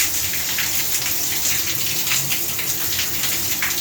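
A Japanese shower head sprays water with a dense, steady hiss and patter like heavy rain, loud and close, running continuously with no talking.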